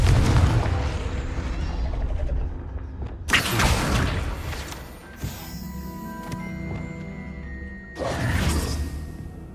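A fiery Confringo spell in Hogwarts Legacy erupts as a series of booming blasts with whooshing bursts, a heavy explosion opening, another striking midway, and a third near the end, ringing tails between.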